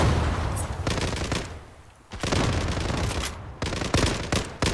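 Zula video game gunfire: loud bursts of rapid automatic shots with brief pauses between volleys, fired at close range.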